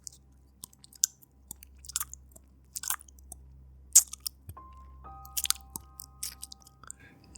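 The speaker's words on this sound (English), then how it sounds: "The unmistakable, sickening sound of something gnawing," Something gnaws and chews on flesh with wet crunching bites and squishy tearing, in irregular close bursts over near silence.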